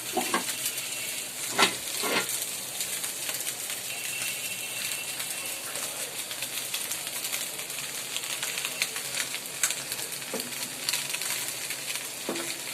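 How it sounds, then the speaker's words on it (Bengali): Fish and spiny gourd cooking in a pan, sizzling and crackling steadily throughout with occasional sharper utensil scrapes and knocks, close and moderately loud. "রান্না করা হচ্ছে মাছ এবং কাঁকরোল"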